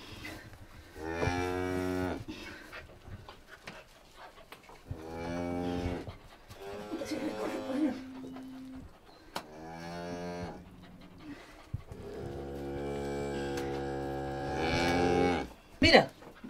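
Cattle on a Spanish farm moo repeatedly: several long, loud lowing calls separated by short pauses, with a quick sharp noise near the end.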